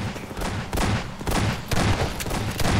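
Sustained machine gun fire in Half-Life 2 rattles in rapid, continuous bursts, loud and close, with brief dips between volleys and other combat noise around it.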